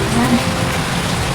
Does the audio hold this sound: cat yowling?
no